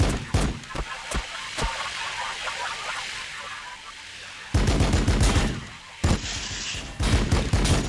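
Rapid bursts of gunfire crackle in Warhammer 40,000: Battlesector, with scattered sharp shots early on giving way to dense, loud volleys of repeated fire in the later seconds.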